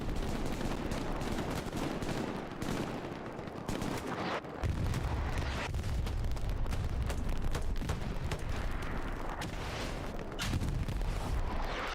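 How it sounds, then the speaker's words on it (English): Heavy battlefield fire in the World War II shooter Hell Let Loose, with rockets flying amid booming explosions and rattling gunfire, loud and continuous with sharp bursts throughout. "Rockets flying there."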